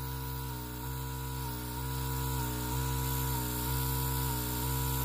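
An airbrush sprays nail alcohol inks with a steady, continuous hiss and hum. The sound comes through close and even, with slight periodic pulsing and no talking.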